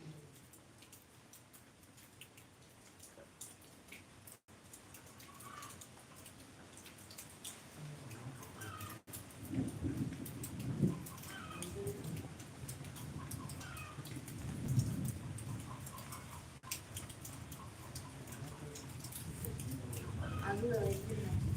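Heavy rain pours steadily with rumbles of thunder, a continuous broadband wash that swells louder toward the end, while voices talk over it.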